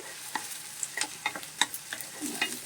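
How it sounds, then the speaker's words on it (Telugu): Onion pieces fry in hot sesame oil with soft, irregular crackles and pops that come quietly and in scattered bursts, with no one talking. "ఇదిగోండి ఉల్లిపాయ ముక్కలు వేసేస్తున్నాను"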